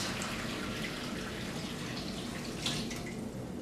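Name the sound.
warm chicken broth being poured through a strainer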